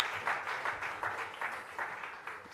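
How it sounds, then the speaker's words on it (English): Audience applause for Mr. Taquain after his performance and speech at a diaspora conference launch event, a faint, rhythmic round of clapping heard at a distance. "please give Mr. Taquain another round of applause"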